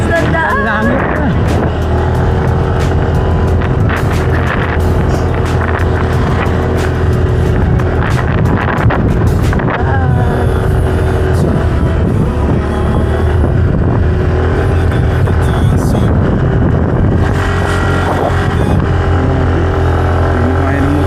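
A motorbike engine labours steadily up a steep mountain road on a trip to Rizal, a continuous loud drone with shifting pitch as it strains, and riders' voices occasionally heard over it.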